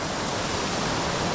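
A waterfall pours down nearby, giving a brief, steady, dense rushing hiss at moderate loudness with no other sounds.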